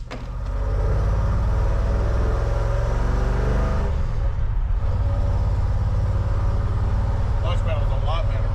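A 1959 Chevrolet Apache truck drives off, its engine a steady low rumble close by with faint higher clicks near the end; people talk over it.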